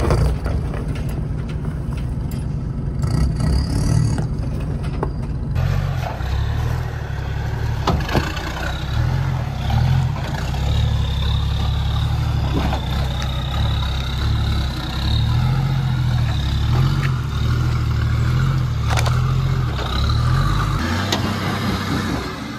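A 4WD vehicle pulls away after a winch recovery off a tree: a steady engine drone with deep low rumble that rises and falls as it drives, plus scattered knocks and clunks over about twenty seconds, with no talk.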